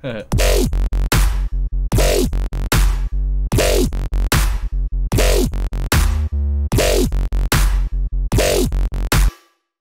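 A loud dubstep build-up with heavy bass and repeating rhythmic bursts of synth, pulsing in regular blocks with brief gaps, then stopping abruptly.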